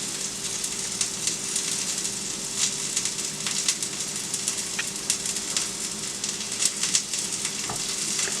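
A homemade southwestern-style veggie burger patty sizzles steadily in a frying pan, a close, continuous crackle with small pops and no talking.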